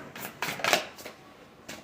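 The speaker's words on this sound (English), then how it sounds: "So I'm just gonna shuffle for you. We'll do a shuffle." Tarot cards shuffled by hand during a live psychic reading: several quick papery riffles and flicks in bursts, fairly close and moderately quiet, with no talking.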